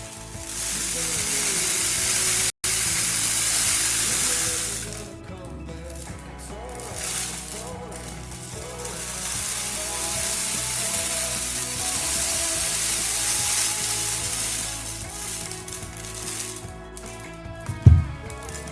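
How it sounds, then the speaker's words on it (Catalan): A homemade rain stick turned end over end gives a steady, close, dense rattling sizzle of small grains cascading inside the tube, rising and falling in waves, with a brief sharp knock near the start and another near the end. "Així sona el nostre pal de pluja."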